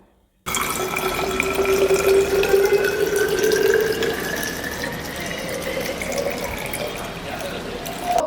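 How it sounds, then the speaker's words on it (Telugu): Water runs from a tap into a container, a continuous close splashing stream whose tone slowly rises as the vessel fills, lasting about eight seconds with no talking. "వాటర్ ఫిల్ చేస్తున్నాను"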